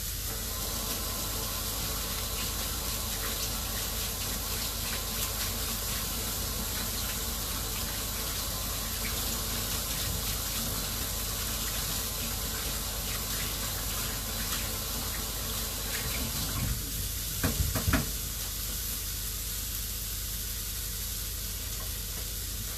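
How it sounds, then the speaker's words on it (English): Tofu rinsed and massaged under a running kitchen tap: a steady loud hiss of flowing water throughout, with brief splashes and knocks near the end. "run it under water and give it a really good massage."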